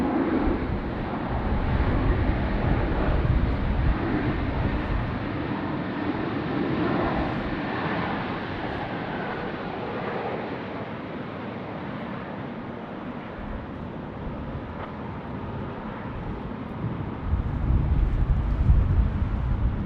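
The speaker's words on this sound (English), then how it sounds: "FedEx 777 now rolling down Alpha to the Alpha 6 holding point for a 3-4 left departure." FedEx Boeing 777 freighter taxiing at Sydney Airport, a steady broad jet engine roar heard from a distance under wind buffeting on the microphone, swelling slightly near the end.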